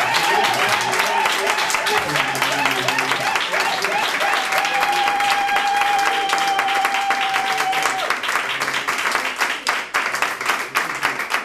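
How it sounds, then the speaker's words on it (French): A church congregation at a Sunday service applauds, a sustained, dense round of clapping with cheers, voices and a ringing high note running through it. "Est-ce que vous pouvez applaudir pour le Seigneur?"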